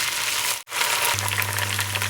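Garlic and ginger fry in a pan for kadhi pakora, a close, steady hiss of sizzling oil that briefly cuts out for a moment before resuming, with a low hum underneath.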